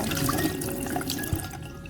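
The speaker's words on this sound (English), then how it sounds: "After sharpening, rinse the knife with water." Running water from a tap rinsing a freshly sharpened kitchen knife, a steady close splashing flow with a faint drip-like knock near the end, no voices.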